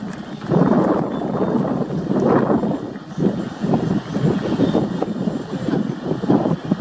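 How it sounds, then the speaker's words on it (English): HAL Light Combat Helicopter in a flying display at DEFEXPO 2018, a loud rhythmic rotor thump with pulsing beats throughout, heard outdoors and fairly close. "this flying machine has sufficient reservoir power and rotor thrust"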